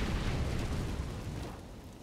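Grenades bursting in a Counter-Strike match on the Inferno map, a dense, sustained low rumble of overlapping explosions that stays loud for about two seconds before easing slightly, with no voices over it.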